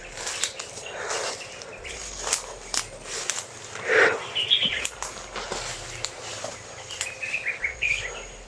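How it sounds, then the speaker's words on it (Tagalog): Birds sing in a woodland with scattered chirps and short calls near and far, alongside faint rustling steps and no talk. "Maganda yung pakinggan yung mga tinig ng ibon po mga tol."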